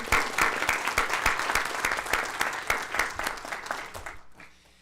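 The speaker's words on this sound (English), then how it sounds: "let's have a round of applause." Audience applause at a board of trustees meeting: dense, steady clapping from a room of people, fairly close and loud, tapering off at the end with no talk over it.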